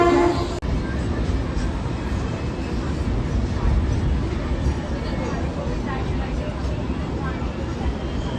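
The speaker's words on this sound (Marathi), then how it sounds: "सो आम्ही फायनली बसलो ट्रेनमध्ये" Steady, loud rumble of a moving train on the way to Bandra, heard from inside the carriage as a constant broadband roar with rattling throughout, with voices present in the background.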